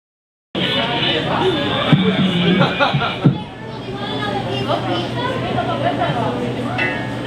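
A crowd of people chatters in a dense, steady babble at an outdoor political campaign event, with nearer voices rising over the general hubbub throughout.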